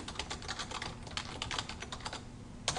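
Fast, steady typing on a computer keyboard, dense close key clicks in an unbroken run with a slightly louder keystroke near the end.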